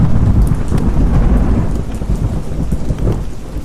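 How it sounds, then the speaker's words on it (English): Heavy rain pours steadily on surfaces as deep thunder rumbles and rolls underneath, loud and close throughout with no voices. "I hope the rain lets up soon"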